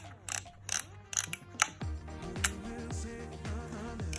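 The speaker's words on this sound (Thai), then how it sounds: "ชัตเตอร์ก็จะลั่นขึ้น" A Kodak M35 film camera gives a series of sharp mechanical clicks and ratcheting snaps, several in quick succession, followed by repeated whirring film-winding sounds, close and clear with no talking.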